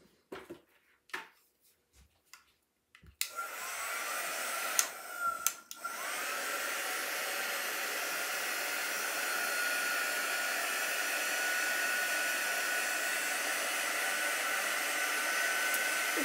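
A hair dryer blows on a chalk paste transfer after a few light clicks and knocks, then runs as a loud, steady whir close by for most of the time, with no talk.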